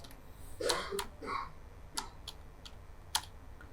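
A computer keyboard is tapped in a few quiet, scattered keystrokes with short gaps between them, heard up close in a calm room.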